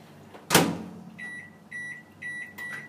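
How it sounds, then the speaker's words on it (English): A mould of four meringues is set inside a microwave oven with a sharp door thump, then a series of three or four bright electronic beeps sounds as the timer is keyed in. "And into the microwave."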